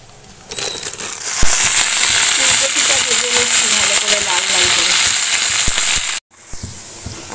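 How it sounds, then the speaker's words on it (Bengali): Ginger, onion and garlic frying loudly in a pan on a gas stove, a dense close sizzle and crackle that cuts off abruptly near the end before resuming faintly. "আদা পেঁয়াজ রসুনটা ভালো করে ভাজা হয়ে গেছে"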